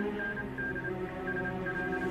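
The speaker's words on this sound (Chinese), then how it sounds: "继续发报，直到回复为止。" A telegraph transmits in a wartime TV drama scene, sending short and longer bursts of a clear, steady beeping tone in an irregular rhythm over a low electrical hum.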